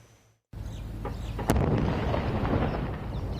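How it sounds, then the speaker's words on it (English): A heavy explosion in Gaza booms after a brief silence, followed by a sustained deep rumbling roar that keeps rolling. "Smoke seen and explosions heard in Gaza again."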